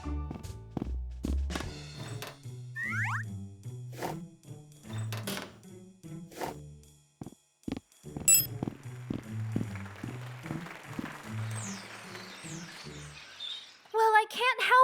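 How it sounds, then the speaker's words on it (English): Birds chirp and call in brief, scattered bursts outdoors beneath a sky full of circling birds, mixed with thunks, footsteps and voices talking, with a denser twittering patch midway and a sharper cluster of calls at the end. "I will listen to the birds."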